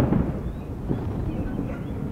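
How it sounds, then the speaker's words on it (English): Low, rumbling thunder from surrounding thunderstorms in the Colorado backcountry, a continuous distant roll with muffled booms, heard alone without voices. "I can hear the thunder rolling throughout."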